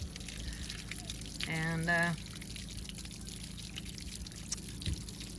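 Water draining from a camping shower container at a lakeside campsite, a short gurgling pour lasting about half a second, mid-distance over steady outdoor background noise; a voice says a single word.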